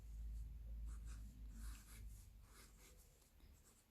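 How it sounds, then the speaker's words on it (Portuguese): Handwriting on paper, a series of faint, quick scratchy pen strokes in short bursts, quiet and close with no talk. "vou até escrever aqui"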